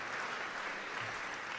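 Audience applause at a Buffalo mayoral debate, a steady, dense wash of clapping that holds at an even level throughout without any talk over it.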